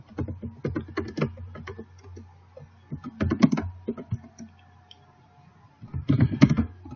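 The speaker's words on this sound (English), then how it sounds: "you want to type that in here." Computer keys are tapped in short irregular bursts while an address is typed, the clicks close and crisp with quiet gaps between flurries.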